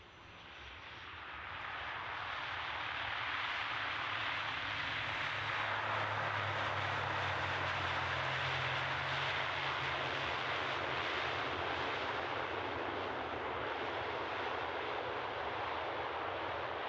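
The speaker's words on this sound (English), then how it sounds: "this Embraer as it turns off" An Embraer jet taxies and turns off at Edinburgh Airport: a broad, steady engine roar swells over the first two seconds, then holds loud and even with a low rumble underneath, and no voices.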